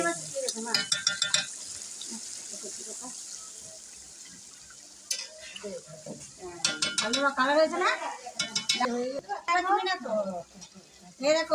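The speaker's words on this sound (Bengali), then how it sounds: "আলু পেঁপে সব ভেজে নিয়েছি দিয়ে দিচ্ছি" Fried potatoes and papaya go into a pot of duck curry with scraping stirs and soft sizzling, heard in bursts while someone talks throughout.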